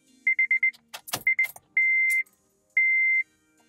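A car starts with a CarPlay adapter plugged in. Close, crisp chimes come first, a quick string of beeps, then two longer tones. Clicks and a key jangle sit between the tones, with no voices.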